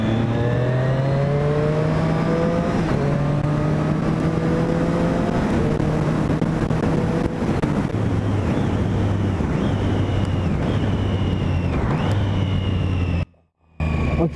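A 2017 Triumph Street Triple 660 S A2 motorcycle on its stock exhaust, its engine droning steadily while passing through several rising and falling revs, with heavy wind rush over the microphone throughout.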